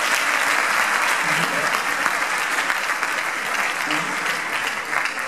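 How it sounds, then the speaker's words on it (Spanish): An audience applauds at a race favourites presentation for the K42 Mallorca 2016 mountain run, a full, steady wash of clapping that holds throughout and eases slightly near the end. "Un aplauso."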